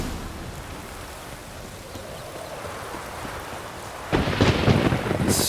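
Thunderstorm with rain in The Witcher 3: Wild Hunt, Blood and Wine, a steady soft hiss of rainfall that swells suddenly into a loud rumbling thunder crack and heavier downpour near the end.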